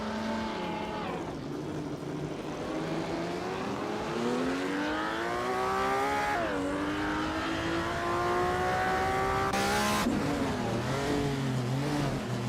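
A 1962 Ferrari 250 GTO engine in a racing video game revs and climbs through the gears, its loud, steady engine note rising in pitch and dropping sharply at each shift, heard alone at close range.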